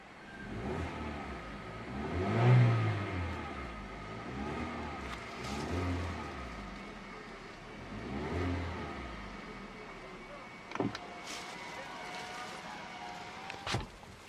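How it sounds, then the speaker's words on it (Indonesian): A Hyundai Stargazer X Prime car engine revs in a series of rising and falling swells, each climbing and easing back, heard moderately close and fairly subdued, with a couple of brief clicks near the end. "Nah ini dia suara mesinnya."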